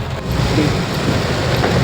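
Heavy rain pours down in a dense, steady roar, loud and continuous with no voices.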